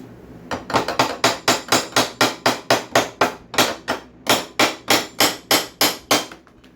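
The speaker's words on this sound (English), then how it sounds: "let me grab a hammer, I think, or something, and kind of tap around the edges and try to knock it off of there" Roughly twenty sharp, evenly spaced hammer taps ring out close by as a hammer knocks a stubborn adapter off the tapered crankshaft of a Lawn Boy mower, steady and metallic with no talk.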